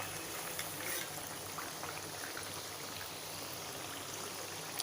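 Alu vadi, colocasia-leaf rolls, frying in hot oil as a soft, steady bubbling sizzle with fine crackles, faint and close, with no talking.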